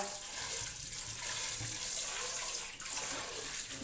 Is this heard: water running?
yes